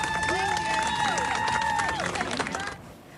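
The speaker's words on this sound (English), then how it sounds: "A crowd of colleagues at the CDC gave them a farewell ovation today as they were escorted out" CDC colleagues give a farewell ovation to departing officials as they are escorted out: sustained clapping mixed with cheers and whoops from a crowd, fading out at the end.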